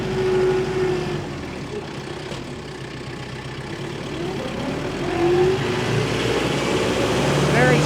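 A 2022 Kubota M7060D tractor with an LA1154 loader idles in a steady low rumble that rises slightly near the end as the hydraulic shuttle engages, while a person talks over it throughout.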